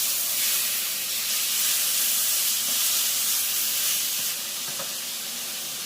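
Taro stems hitting an oiled pan for Korean dried-vegetable namul, a loud, broad hissing sizzle held steadily for several seconds before dropping a little in strength, with no voices.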